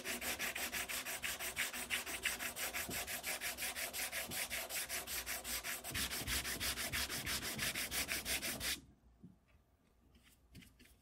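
Hand sanding the backs of holes in a wooden Kar 98 rifle stock on a workbench: fast, rhythmic back-and-forth rasping strokes, close and loud, stopping abruptly near the end and leaving a few faint handling sounds.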